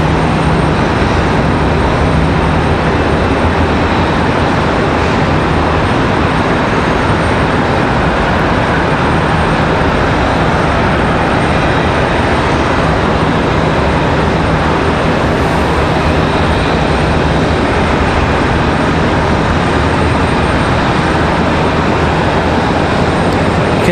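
Airbus A321 jet at Charlotte Douglas airport, a steady loud broadband roar of engine noise that holds for the whole stretch without a break, with no voices.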